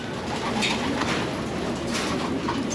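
Soft cooing of pet pigeons in a loft repeating over a steady outdoor background hum, with no voices.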